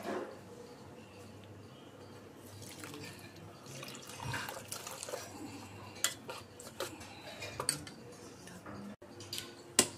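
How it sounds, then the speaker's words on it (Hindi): Water pours steadily into a bowl of semolina batter for dhokla, with scattered clinks and taps of utensils against dishes nearby. "पानी डालिए।"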